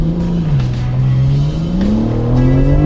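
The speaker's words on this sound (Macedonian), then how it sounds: "Распеани 6 цилиндри, подпомогнати со 2 турбополнечи. И слушнате како баварецот реже." A BMW's twin-turbocharged six-cylinder engine making about 510 horsepower revs hard and steadily from inside the car, its loud droning note sagging briefly and then climbing again under acceleration with no voices over it.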